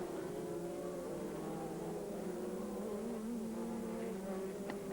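Audi race cars running at Sears Point, a steady distant engine drone from the circuit with a faint commentator-style background, fairly quiet and continuous.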